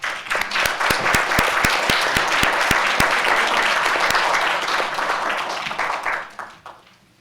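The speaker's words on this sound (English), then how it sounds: "let's give our board as well as our student representatives a round of applause" A round of applause for the board and student representatives at a Grand Rapids school board meeting: a few sharp, close claps ring out over a steady crowd clapping that holds for several seconds, then tapers off.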